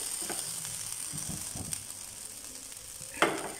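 Goat brain frying gently in a pan over a low flame, a soft, steady sizzle nearby with a few faint clicks and one sharper tap near the end.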